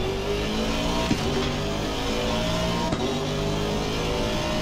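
An Aston Martin Vantage V8 GT race car in Assetto Corsa Competizione at Donington drones steadily at high revs, loud and continuous, with a couple of brief gear-shift blips.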